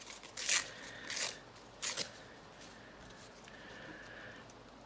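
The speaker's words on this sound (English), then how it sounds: "I'm just going to tear some of this away." Book paper is torn by hand for an art journal page: three short, close ripping bursts in the first two seconds, then a faint, drawn-out tear and light rustling at low volume.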